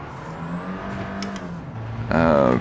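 Citroen DS replica with a stock, non-custom exhaust in Gran Turismo 7, a steady engine drone holding pitch, then rising into a louder rev near the end, with no pops or backfires.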